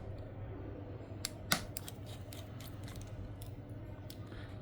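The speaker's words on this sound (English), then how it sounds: "with the help of this trio screwdriver, we will open all 7 screws" Tiny clicks and ticks from a tri-point screwdriver turning the small screws of an iPhone 15 Pro, close and faint, with one sharper click over a low steady hum.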